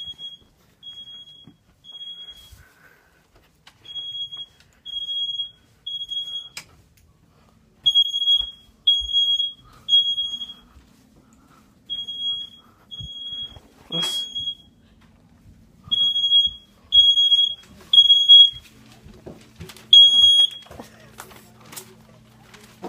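A smoke alarm chirps in repeated high-pitched bursts, some in rapid clusters, with occasional thumps and brief voices in between.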